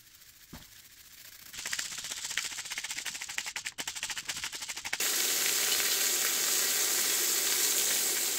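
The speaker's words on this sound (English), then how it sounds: "that's the sear we want" Short ribs seasoned with kosher salt searing in a hot pan: a quieter crackle builds into a steady, loud, dense sizzle that swells and stays constant to the end, with no talking.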